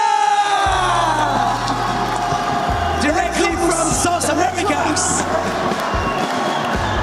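An announcer speaks over a lively crowd cheering and clapping in a large esports championship venue for Call of Duty Warzone, with whoops rising in the background throughout.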